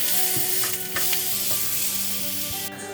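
Ground mince sizzles steadily in a hot pan for a Greek pastitsio, with a few scraping stirs and clacks of a utensil over the continuous frying hiss.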